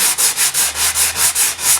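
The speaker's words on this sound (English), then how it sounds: "since it's just a sanding block" Steady back-and-forth strokes of a sanding block rubbing over wood to remove jointer marks, about nine even passes in a brisk, regular rhythm, close and clear.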